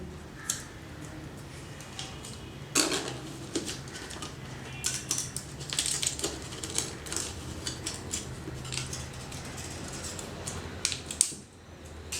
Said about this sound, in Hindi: अब मैं इसको ब्लेड से जहाँ पे मैंने निशान लगाए थे इसकी कटिंग करूँगा